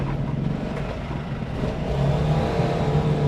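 A Bajaj Qute auto rickshaw engine drones steadily from inside the cabin in traffic among other bajaj, a noisy, constant hum that swells slightly louder toward the end.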